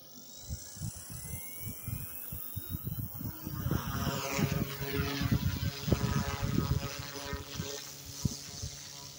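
An OMP M2 EVO RC helicopter flies outdoors, its rotor buzz and whine rising and falling as it maneuvers at middle distance, moderately faint with no talking.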